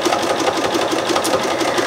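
A sewing machine runs at speed during free-motion machine quilting, a loud, close, rapid and even rhythmic whir of needle strokes with no pauses or voices.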